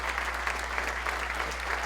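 Audience applause following a speech at a debate on science and belief in God, steady clapping at moderate level filling the whole short stretch.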